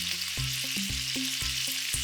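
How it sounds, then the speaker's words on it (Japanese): Teriyaki chicken and vegetables fry together in a single frying pan, a dense close sizzle carrying quick regular taps and shuffles as the pieces are moved, with no voices. "フライパンで全部一緒に焼いて、"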